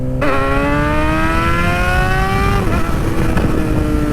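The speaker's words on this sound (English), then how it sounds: "That bike does sound good" A loud sport motorcycle engine revs up steadily, its pitch climbing over a few seconds before dropping off, with rough mechanical rumble throughout.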